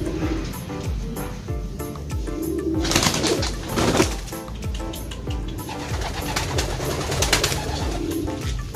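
A pigeon of the iwir type cooing in repeated low throaty phrases, close and clear, with softer bursts of rustling and noise between calls and no voices.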